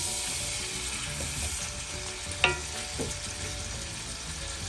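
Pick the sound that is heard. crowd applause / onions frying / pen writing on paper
onions frying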